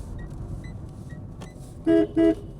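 Two short, loud car horn honks in quick succession from a 2026 Tata Tiago, close by, following a stretch of low road and engine rumble.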